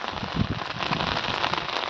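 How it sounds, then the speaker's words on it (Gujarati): Dense, loud rain pounds down without pause, a crackling wash of countless drops hitting close by. "વરસાદ બહુ પડે છે"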